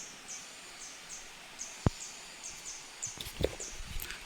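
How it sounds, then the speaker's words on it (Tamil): A purple-rumped sunbird calling in hill forest on Sathuragiri mountain: faint, repeated thin high chirps spaced through the clip over a steady background hiss, with a few brief louder clicks. "ஒரு தேன் சிட்டு அழகாக கத்திக்கிட்டு இருக்கு."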